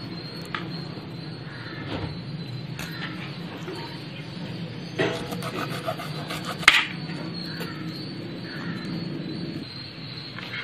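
Chicken wing pieces are cut by hand for chicken lollipops, giving soft scraping, rubbing and rasping at close range, with a few sharper clicks and rustles over a low steady background.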